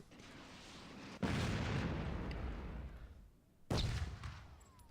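Sharp gunshots ring out in a shooting video game, two loud reports with a ringing decay between them, heard alone over a quiet background.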